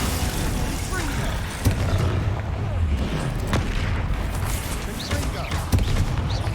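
Repeated magical spell blasts in Hogwarts Legacy, Confringo and Bombarda explosions, a series of booming thumps and crackling impacts in quick succession, loud and close amid combat noise.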